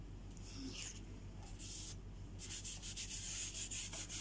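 Glued paper being rubbed down by hand on a photo book page, a close, steady dry scraping and rubbing that continues without a break.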